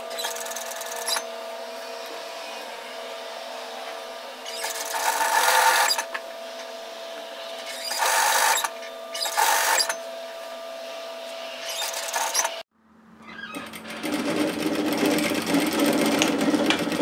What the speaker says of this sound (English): stop with your needle down in your work, lift, turn and pivot, and then reposition your work and keep sewing